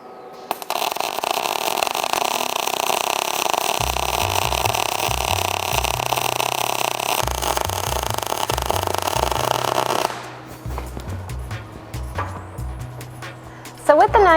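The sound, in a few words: short arc welding with argon gas mix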